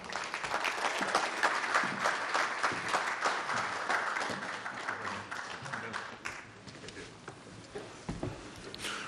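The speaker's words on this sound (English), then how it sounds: "let's give a round of applause to our good friend, your good friend, Mr. Will Heal, the Good Reverend" Crowd applause welcoming a storyteller at a writers award ceremony, dense continuous clapping that thins toward the end, moderate distance, with faint voices underneath.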